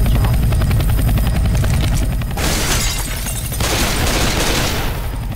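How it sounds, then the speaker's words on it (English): Helicopter rotor chopping loudly and steadily in Left 4 Dead 2 on the Dark Carnival campaign, close and continuous, with bursts of gunfire and crashing noise mixed in. "A chopper!"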